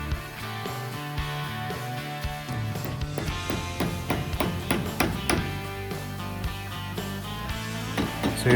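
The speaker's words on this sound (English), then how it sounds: "you just tap that little fitting rattle in there" A press-fit fuel hose fitting on a Ford F-350 squarebody super dually is tapped into place with a hammer, a series of sharp, close metallic taps that quicken into a rapid run of strikes.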